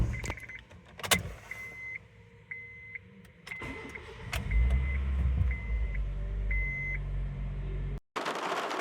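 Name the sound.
Honda Airwave car being started after CVT mount replacement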